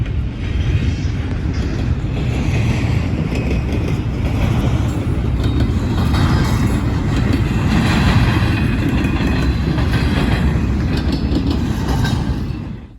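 A loaded CSX ethanol freight train rumbles past steadily in Deshler, Ohio, with a broad roar and faint rail clatter, constant and fairly close, with no voices.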